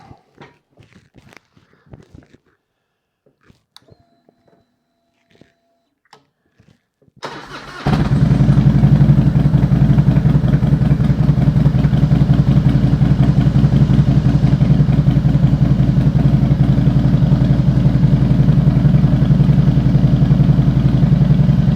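Harley motorcycle engine cranking and catching after several seconds of scattered clatter and footsteps, then settling into a loud, steady, throbbing rumble that runs continuously and close up to the end.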